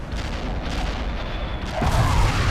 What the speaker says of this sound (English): Artillery barrage inbound.